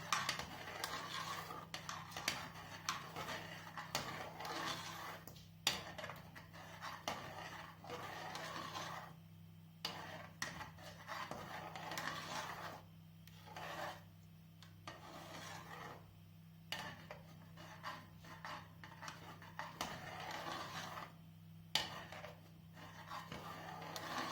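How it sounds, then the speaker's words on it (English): A spoon scraping and rubbing steadily against a pot while banana porridge is stirred over medium flame, quiet and close, with irregular rasping strokes and no talking. "And keep stirring."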